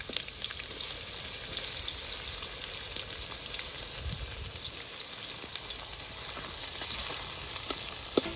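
Onion sautéing in oil with cumin seeds, curry leaves and green chillies, a steady close sizzle running the whole time with occasional soft stirring knocks, no talking.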